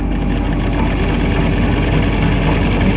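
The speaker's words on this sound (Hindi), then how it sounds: "इस पे यहाँ पे फिर थंब से पुश करते हुए बड़ा बखिया कर लूँगी इसका।" A sewing machine stitches a bordered blouse with a loud, steady, continuous mechanical hum and rapid whirring throughout, close up and without pauses.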